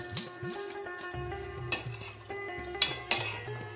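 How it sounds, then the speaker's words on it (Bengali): Leafy greens being stirred in a pot of hot water with a metal spoon, giving close scraping and clinking of utensil against the pot in an irregular rhythm, with a few louder knocks. "এবার একটু নাড়াচাড়া করে দিচ্ছি"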